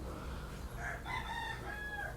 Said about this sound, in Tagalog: Perte kaayong pataga ug dungog ikinato sa palibot ang mga manok nagtuktukaok.